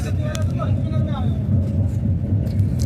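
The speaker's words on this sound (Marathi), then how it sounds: "लोणावळा स्टेशनवरून आता गाडी स्टार्ट झाली." A train pulls out of Lonavala station, a loud rumbling low drone with wind buffeting and voices murmuring nearby.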